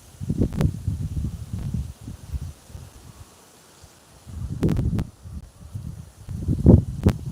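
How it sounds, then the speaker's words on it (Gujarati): Wind comes in irregular gusts, rustling through coconut palm fronds with low buffeting rumbles and a quieter lull in the middle. "જો આ નારિયેરી હલેરી"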